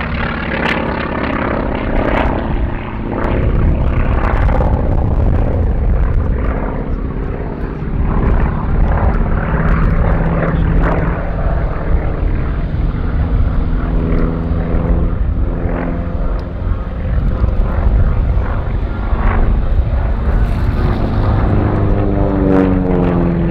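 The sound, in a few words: North American T-28B Trojan propeller aircraft flying at air show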